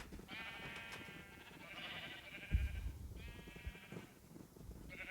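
Minecraft sheep bleat repeatedly inside a pen in the video game, a series of clear nasal calls with short gaps between them, fairly close and loud, with a few soft thuds underneath and no talking.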